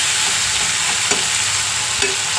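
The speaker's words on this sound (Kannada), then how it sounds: "ಹುಣಸೆಹಣ್ಣು ಕಿವುಚಿಟ್ಕೊಂಡಿರೋದನ್ನ ಸ್ವಲ್ಪ ಅದರೊಳಗಡೆ ಹಾಕೋಣ ಬನ್ನಿ." Squeezed tamarind pulp goes into a sizzling pan for tamarind gojju chitranna, a steady close frying hiss with two soft splashy bumps as the liquid lands, no voices.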